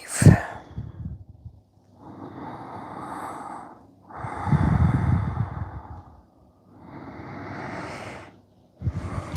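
During a yoga forward fold, slow deep breaths come through the nose, a sharp sniff and then long drawn-out inhales and exhales in a steady rhythm, close and clear.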